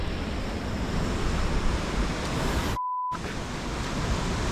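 Snowmelt river water pours over a waterfall in a winter wilderness, giving a loud, constant broadband roar with no pauses, briefly cut to silence partway through.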